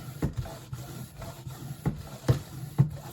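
CLOLOP floor pump inflating a flat bike tire: a steady run of rhythmic pumping strokes, each a soft whooshing thump roughly every half second, close and moderately quiet.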